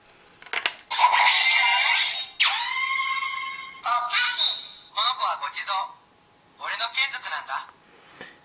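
A DX Bake Magnum henshin toy gun from Kamen Rider Gavv, used with the Gavv phone, plays loud electronic effects: a quick click, then several bursts of bright synthesized tones and voice-like sound separated by short pauses.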